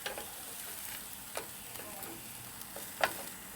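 Food sizzling quietly in a non-stick Ridgemonkey pan over the lowest heat on a micro camper stove, a soft steady fry with a few light clicks and taps of a utensil, no voices.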